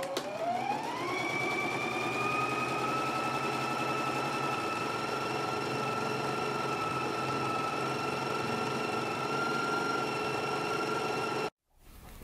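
A sewing machine runs steadily, stitching a seam 3/8 inch from an earlier 5/8-inch line with a backstitch on elastic-waist garment fabric; the motor whine rises in pitch in the first second, holds a continuous loud hum, then cuts off near the end.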